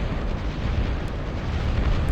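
Long-range plasma cannons fire in a real-time strategy battle from TA Escalation, a dense continuous rumble of booming explosions and artillery blasts that stays loud throughout with no clear gaps.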